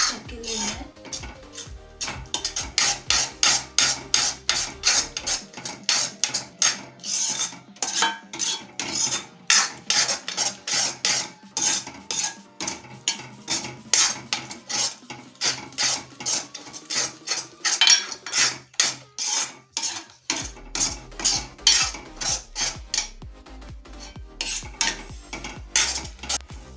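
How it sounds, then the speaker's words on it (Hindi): Egg chutney masala with omelette pieces being stirred round in a pan on low heat, a long run of quick scraping spoon strokes against metal, rhythmic and close, with faint sizzle beneath. "देखो फ्रेंड्स, ऐसे ही गोल घुमा कर हम मिक्स करके लेंगे"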